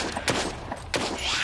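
Gunfire in the virtual reality zombie game Arizona Sunshine: two sharp, loud shots about two-thirds of a second apart, over a dense noisy background.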